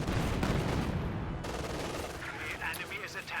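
Machine-gun fire rattles in a Company of Heroes 2 battle, a dense burst of rapid shots up front that thins into quieter crackling, with other battlefield noise behind it.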